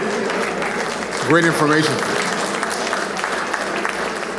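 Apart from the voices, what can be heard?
audience applause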